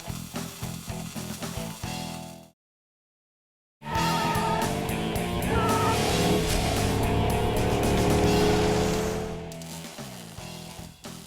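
A Mustang GT with a four-link rear, overpowered, driving on a track: a loud sustained engine roar with tire noise, broken by a brief gap of silence, then building again before fading.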